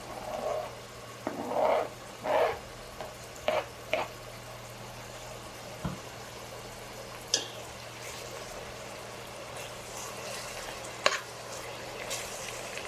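Green peppers fry in a pan for a vegan Ethiopian dish, with a soft background sizzle broken by a few short bursts of stirring and spitting oil early on, then fainter clicks.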